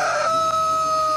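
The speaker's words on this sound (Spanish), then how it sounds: "Cantó el gallo" A rooster crows once during a Venezuelan morning radio broadcast: a loud, close, sustained crow on its own, with no talking over it.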